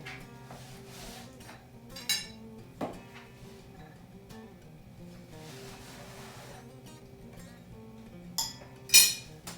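Creamy grape salad dished up with serving utensils: scattered clinks and scrapes of spoons against a bowl, a few sharper knocks standing out over quiet room tone, close and intermittent.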